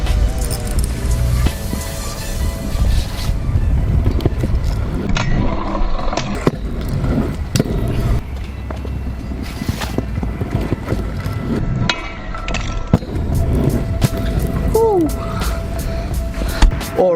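BMX bike doing bar spin tricks on flat ground, with tires rolling and rattling on pavement, scattered clanks and taps from the bike, and a brief squeak near the end under wind noise.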